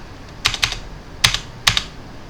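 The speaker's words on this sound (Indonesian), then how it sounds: "Kemudian kalian ketikkan show IP route." A command typed on a computer keyboard into a network router terminal: four crisp, close key clicks in an uneven rhythm, alone against quiet background.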